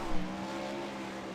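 360 non-wing sprint cars racing at Charlotte, a steady loud engine drone with a brief louder swell near the start, sustained throughout.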